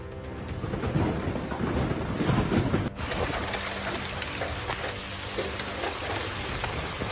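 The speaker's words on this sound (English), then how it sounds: "The sharp, relentless sound of hailstones says it all." Large hailstones fall during an intense North Texas thunderstorm, a dense, loud roar of pelting impacts on surfaces that continues unbroken throughout, close and with no voices.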